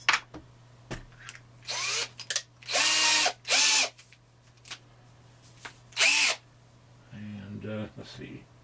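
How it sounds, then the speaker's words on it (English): Several short bursts of a power drill whirring as it drills a hole in a lemon sculpture setup, stopping and starting, with quiet handling noises and a low hum between. "now I just need to drill a hole for it"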